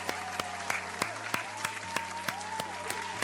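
Steady, evenly spaced claps, about three per second, sharp and close, over a low hum and a faint voice.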